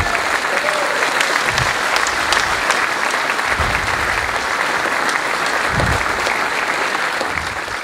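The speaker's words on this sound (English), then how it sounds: "I think everybody should give this entire crowd a big hand." An audience applauds at a Southeastern Indiana Musician's Hall of Fame ceremony, with loud, dense, sustained clapping from a large crowd filling the hall throughout.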